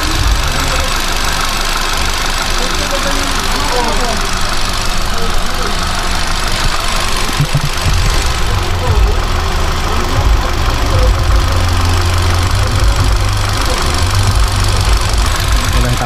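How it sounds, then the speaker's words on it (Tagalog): A Hyundai Accent automatic's engine idles with a steady low rumble and faint knocking, close up, while a voice talks over it. "Tahimik yung makina niya."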